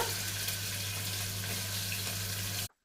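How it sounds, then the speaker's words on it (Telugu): Green chilies and onions frying in hot oil for a mutton curry, giving a steady, loud, close hiss that holds evenly for almost three seconds and then cuts off abruptly. "నూనె అనేది వేడెక్కిపోయింది ఇప్పుడు పచ్చిమిర్చి వేసేద్దాము ఫ్రెండ్స్ ఇప్పుడు ఉల్లిపాయలు వేసుకుందాము"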